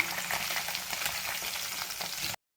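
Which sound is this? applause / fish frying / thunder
fish frying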